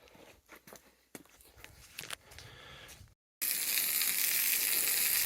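Water from a hose rinses algae off a porcelain patio. After a few seconds of scattered scuffs and brief silence, a loud, continuous hissing spray begins abruptly and holds steady to the end.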